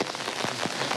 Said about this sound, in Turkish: İyi bir yağmur var.